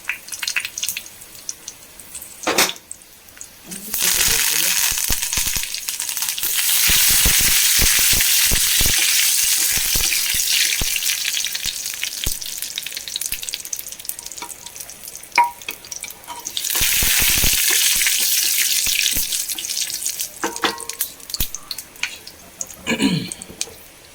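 Spices with mustard seeds and two dried red chillies sizzle and fry in hot oil with a loud hissing that swells twice, punctuated by clinks and stirring, close by with no talking.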